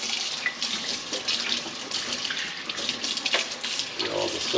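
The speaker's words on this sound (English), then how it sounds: "We'll rinse out our mask cushion." A CPAP mask cushion is rinsed under a running tap, with a steady, close splash of water that shifts a little as the cushion moves through the stream.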